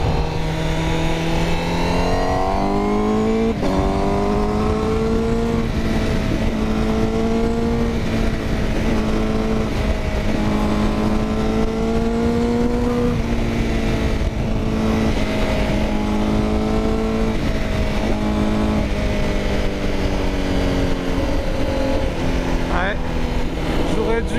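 A 2020 Honda CBR1000RR-R SP sport motorcycle with 217 hp revs up through its gears, its engine note climbing and dropping at each shift. The riding is close and loud, with wind noise and a voice talking over it.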